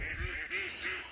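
Several ducks on a backyard poultry homestead give repeated honking quacks, three or four calls spaced through the clip over a steady outdoor background.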